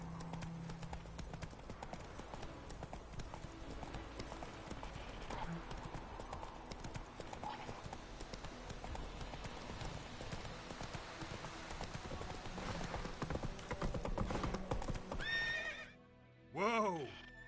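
Horse Roach galloping in The Witcher 3: rapid rhythmic hoofbeats run steadily throughout, with game music beneath, ending in a loud neigh as the horse pulls up.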